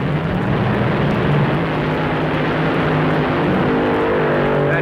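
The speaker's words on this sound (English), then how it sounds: "But trouble, the engine blows." A fuel dragster's engine roars loudly and continuously at a race, a dense, unbroken blast of noise with a low rumble underneath and no distinct pops or breaks.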